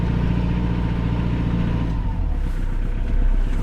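A steady low engine drone from a Kubota KL46 46-horsepower tractor hums throughout, muffled as if heard from inside its sealed cab, with no talking.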